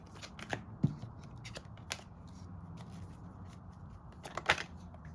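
A deck of tarot cards is shuffled by hand in short, crisp riffling bursts with small taps and slides between them, close and fairly quiet, with no talking.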